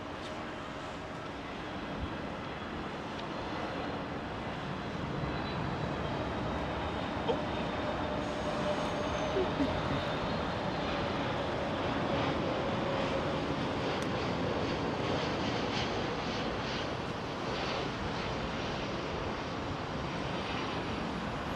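DHL Airbus A300B4 cargo jet at London Heathrow, a steady broadband engine roar holding at moderate loudness throughout with a faint whine above, no voices.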